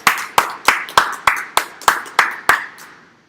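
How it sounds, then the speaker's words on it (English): Hands clap in a short run of nine sharp, evenly spaced claps for three young exhibitors at a county fair dairy and meat goat show, loud and close, with the last clap fading out. "if we could give these three exhibitors a nice round of applause out here."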